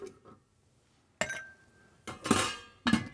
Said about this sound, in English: we're going to want to take and add just a couple of ice cubes.